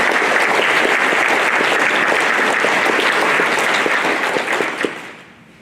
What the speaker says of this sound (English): Please give a round of applause to the members of our school board and administration